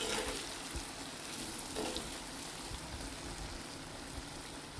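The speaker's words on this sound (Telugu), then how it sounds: "ఇప్పుడు మూత పెట్టుకుని మగ్గించుకుందాం వీటిని" Mango fish curry bubbles in a pan, a soft continuous sizzle and gentle simmering hiss with faint scattered pops and no voices.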